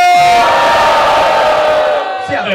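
A loud crowd at a Brazilian freestyle rap battle roars and cheers close up in one sustained swell, with whoops and shouts piled on top that fade slightly toward the end.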